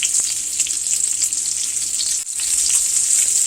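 Breaded pork cutlets frying over medium heat in an iron skillet, a loud, constant close sizzle with faint crackles, briefly dipping midway and then resuming.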